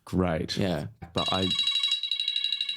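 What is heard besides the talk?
telephone ringing with an incoming call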